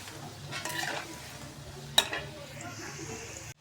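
Pea nuggets deep-fry in oil, a soft low sizzle with brief stirring bursts and a sharp utensil clink near the middle before the sound cuts off.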